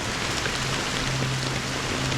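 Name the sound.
rain falling in video game Honkai Star Rail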